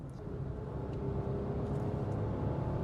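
A small European car with a manual gearbox drones steadily from the cabin, its engine hum low and continuous with no voices.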